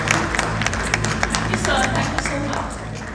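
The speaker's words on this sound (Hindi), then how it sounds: "प्लीज जोरदार तालियां सम्राट जी के।" Clapping from an audience at a film event, a steady dense patter of many hands with scattered sharper claps, close and sustained, with background chatter and voices in the mix.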